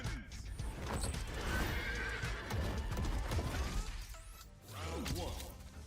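Hooves clatter rapidly in a galloping rhythm, and a horse whinnies loudly near the end, with a few crashing impacts mixed in.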